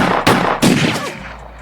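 Gunshot sound effect, two loud close blasts in quick succession, each decaying into a short ringing tail.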